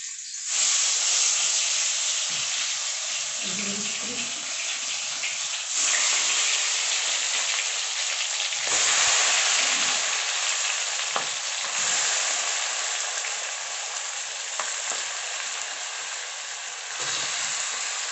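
Food lands in hot oil left over from frying potatoes, setting off a loud, close sizzle that swells in several strong bursts and then settles into a steady crackle.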